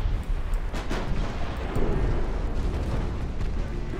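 Torpedo hits on a warship in a naval combat game land as muffled, rumbling booms over a dense low roar, with a couple of sharper bursts rising out of the continuous din.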